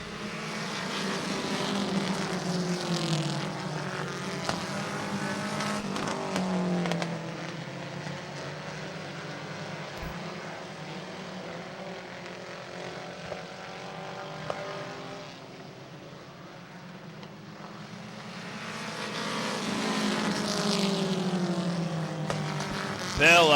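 Race cars lapping a track during a feature race, engines droning and rising and falling as they pass, steady loud roar throughout with a commentator talking over it.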